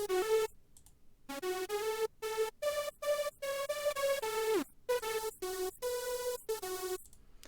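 Dry hardstyle lead synth with no distortion or compression, a bright buzzy tone playing a choppy melody of short staccato notes separated by abrupt gaps, alone and fairly quiet.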